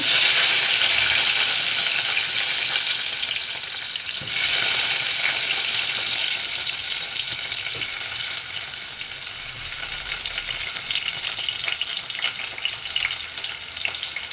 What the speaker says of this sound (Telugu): ఇప్పుడు ఇందులో ఉల్లిపాయ ముక్కలు వేస్తున్నా